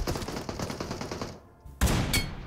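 Gunfire in PUBG Mobile, first a fast burst of automatic shots, then a short lull before louder, sharp shots ring out nearby.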